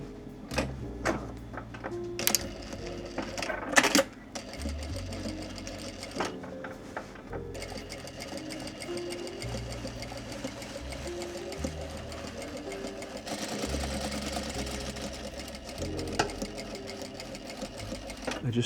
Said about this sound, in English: But I'm going to do that decorative stitch now.